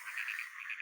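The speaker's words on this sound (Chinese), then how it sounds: "走到这个田边，全是青蛙的叫声。" Frogs croak steadily in a netted frog-farm paddy near the coast, a dense overlapping chorus of pulsing calls close by with no other sounds.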